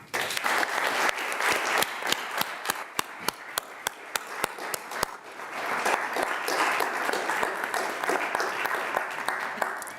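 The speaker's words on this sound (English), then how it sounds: "we typically ask that the crowd not disrupt the proceedings with applause, but we'll allow it for today" Sustained crowd applause fills a county board meeting room, steady clapping from many hands with a few sharper individual claps standing out, dipping briefly midway before swelling again, loud and close throughout.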